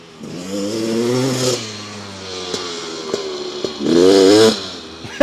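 A 2026 Beta 350 RX two-stroke dirt bike revs in two loud bursts with a quieter idle and clatter between them, close by.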